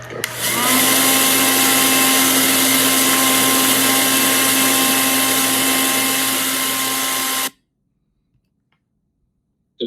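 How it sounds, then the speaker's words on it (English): An air mattress pump blows air with a loud, steady whirring drone and a high whine that starts abruptly and runs for about seven seconds before cutting off into near silence. "we decided to use an air mattress pump as the air supply"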